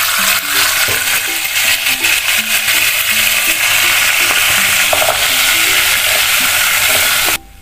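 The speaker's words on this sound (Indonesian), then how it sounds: "kita lanjut untuk menggoreng bawang dan cabenya" Garlic and chili fry in hot oil for sambal, giving a loud, continuous crackling sizzle close to the listener that stops abruptly at the end.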